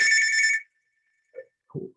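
A telephone ringtone plays a loud, close electronic ring in an office setting, then cuts off, followed by brief faint handling sounds.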